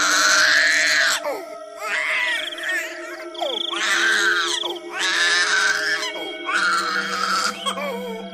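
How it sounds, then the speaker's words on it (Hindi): A baby girl crying loudly in four long, strained wails separated by short gasping pauses, close and piercing, with a faint background hum underneath. "तभी मीना की बिटिया जोर जोर से रोना शुरू कर देती है।"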